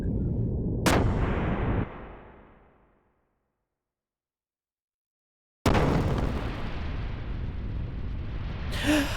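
Cannon blasts from a warship in the Xenogears video game: a sharp, loud boom with a rumbling tail that fades into silence, then a second heavy blast that gives way to sustained roaring noise.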